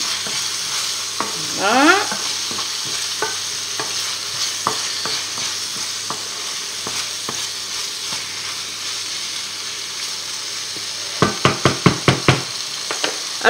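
Onions and garlic fry in a pan over medium heat for squid basquaise, a steady sizzle broken by stirring scrapes and a quick burst of knocks near the end; a voice says one brief word.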